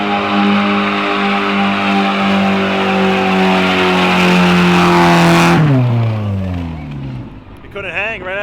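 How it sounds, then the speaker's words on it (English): A Mazda Miata doing a burnout holds a loud, close revving drone, then its pitch sweeps sharply down as the engine drops back. Crowd chatter and voices run underneath. "He's gonna do a burnout right now, as we can see."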